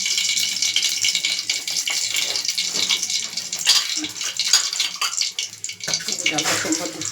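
Mustard seeds tempering in hot oil for dal, a dense close sizzle and crackle with scattered pops running continuously, mixed with faint kitchen clatter.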